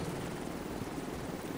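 Helicopter rotor noise from The Division 2's Dark Zone, a steady broadband thrum that holds even and fairly loud the whole time, with no voices over it.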